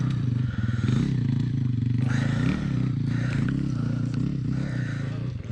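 Off-road motorcycle engine held at low throttle, a steady close mid-range drone with slight rises as it creeps along, joined by some scraping and clatter.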